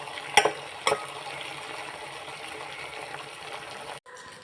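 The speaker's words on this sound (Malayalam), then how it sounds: "ഇത് നന്നായി മിക്സ് ചെയ്യുക." Mango pickle is mixed by hand, giving a soft, moist stirring and squelching sound close by. Two sharp utensil clicks come early, and the sound drops away abruptly near the end.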